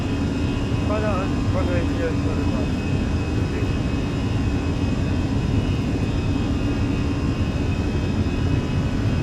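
Fenix A320 jet engines drone loudly and steadily during a takeoff roll in Microsoft Flight Simulator, a constant roar throughout with a few faint brief tones near the start.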